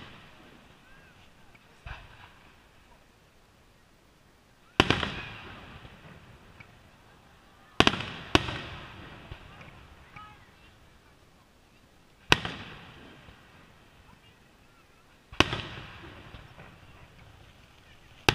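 Canada Day fireworks burst over the Thames River in a series of loud, booming explosions spaced several seconds apart, each trailing off into a long echoing rumble across the open outdoor setting.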